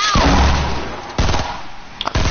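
Gunfire in Fortnite: a loud blast opens, then two more heavy shots follow about a second apart, with a short burst of smaller cracks between them, all close and punchy.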